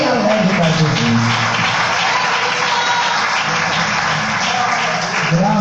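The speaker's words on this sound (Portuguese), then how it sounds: "Recebe o servo de Deus com as palmas bem alegres para Jesus" A church congregation claps loudly and continuously, dense applause with voices mixed in throughout, lasting several seconds without a break.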